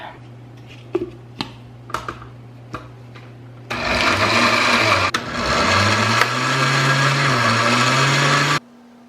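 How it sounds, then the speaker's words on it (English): A loud blender motor whirs steadily for several seconds, churning a keto pumpkin cheesecake crust mixture, its pitch shifting slightly, after a few quiet clicks and taps. "here is what it looks like in the blender, and we are going to blend this up"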